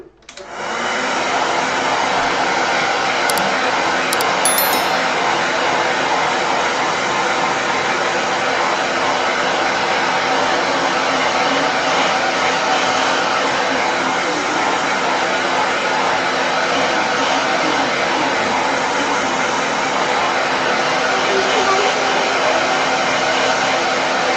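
A hair dryer blows on a wet watercolor painting, a loud, steady whooshing roar that starts abruptly and runs unbroken for over twenty seconds.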